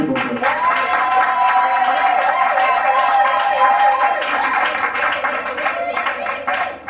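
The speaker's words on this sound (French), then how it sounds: "de se mettre debout sous les applaudissements du public" Audience applause at a civil wedding ceremony for Narcisse and Joëlle, a steady dense wash of clapping from a crowd lasting throughout, with voices and music-like tones mixed in underneath.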